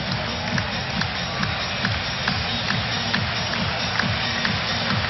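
A packed basketball arena crowd at a Cleveland–Boston playoff game roars continuously in a dense, loud wall of cheering and rumbling noise with scattered claps, sustained without a break.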